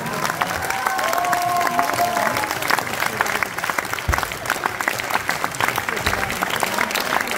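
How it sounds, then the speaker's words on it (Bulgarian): Audience applause at an anniversary concert in Stara Zagora, Bulgaria, a steady dense clapping crowd sustained at even volume throughout, with a faint tone or voice briefly near the start. "Аплодисменти, моля, Стефан Димов."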